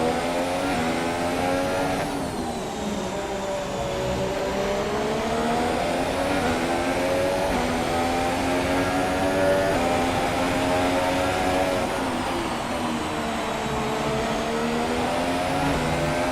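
Race cars in the F1 2017 video game at Abu Dhabi, engines droning and rising and falling in pitch through a steady, loud run with gear changes, alone without speech.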